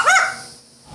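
A blue and gold macaw imitates a dog, giving a short, fairly loud woof-like bark up close, followed by a fading tail and near silence.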